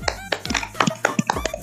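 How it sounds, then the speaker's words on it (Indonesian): A short burst of clapping for a student who read aloud in a classroom, with several sharp hand claps and taps landing in an uneven rhythm over about two seconds, fairly close and moderately loud, with no voices. "Tepuk tangan untuk Mas Ridho"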